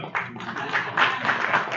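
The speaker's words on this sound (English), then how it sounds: "Give another round of applause for President Senator" Brief round of clapping from an audience at a Cincinnati city hall chamber event, honoring a senator. A short, even patter of hands at moderate level with some background murmur.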